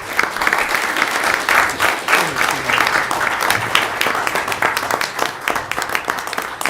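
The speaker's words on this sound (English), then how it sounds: "A huge round of applause for all the players" A room of people applauds championship team players at a city council meeting, with lively, uneven clapping and a few distinct nearby claps standing out over the general crowd.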